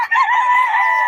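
A young rooster, a stag, crows once, loud and close, at a flea market, a single sustained call lasting about a second with no talking over it.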